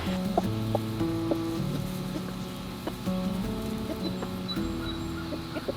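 Chickens clucking and murmuring nearby, with short overlapping calls scattered throughout against a steady farmyard background.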